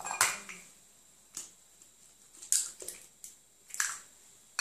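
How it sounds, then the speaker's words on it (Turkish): Two eggs are cracked into a bowl for an apple cake, giving a few sharp, close cracks and soft squishy taps spaced across a quiet kitchen. "2 yumurtamızı kek kabının içine kırıyorum"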